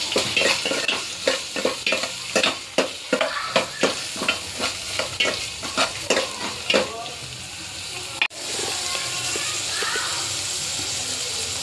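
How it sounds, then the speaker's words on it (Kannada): Chopped onions for tomato sambar are stirred in a hot pan, giving a brisk run of rhythmic scraping strokes over a sizzle. The stirring stops and a steady frying hiss carries on alone. "ಈರುಳ್ಳಿ ಫ್ರೈ ಆಗಲಿ, ಸ್ವಲ್ಪ ಬಾಡಲಿ ಚೆನ್ನಾಗಿ"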